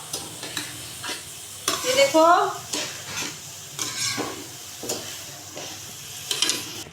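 Raw mango and half a kilo of sugar for murabba are stirred in a pot, giving repeated scraping, swishing strokes over a soft sizzle, with a brief voice heard once.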